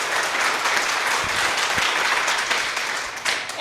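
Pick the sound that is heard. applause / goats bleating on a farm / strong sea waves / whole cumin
applause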